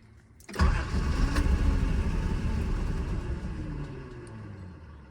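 A 1979 Datsun 280ZX catches with a sudden start after a short quiet moment, then settles into a steady, rumbling idle that fades slightly toward the end, close and alone without voices.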